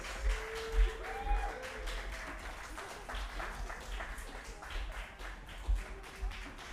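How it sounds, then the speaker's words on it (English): Applause from an audience at a concert of composers and singers, steady and moderately loud, with scattered sharper claps rising out of the crowd noise. "one more round of applause for all these artists"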